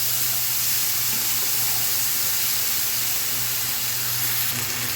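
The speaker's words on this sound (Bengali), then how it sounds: "পেঁয়াজ মরিচটা যখন একটু ভাজা ভাজা হয়ে যাবে না" Onions and chillies fry in a pan, giving a steady, close hiss of sizzling oil that holds even and loud from start to end, with no voices.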